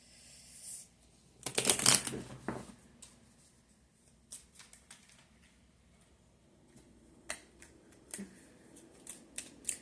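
A tarot shadow deck being shuffled, with a loud burst of riffling cards early on, then quieter scattered card taps and flicks; no speech.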